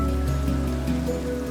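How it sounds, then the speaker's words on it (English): Steady rain falls in the Minecraft video game, an even hiss of drops that runs throughout alongside sustained tonal background sound. "As the rain comes down."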